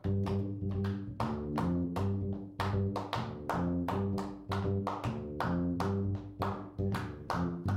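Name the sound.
audience clapping along to Take Five in five beats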